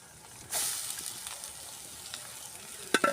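Vegetables for a samosa filling sautéing in a pan, a sudden burst of sizzle that settles into a steady fry, with a few stirring knocks near the end, close and without speech.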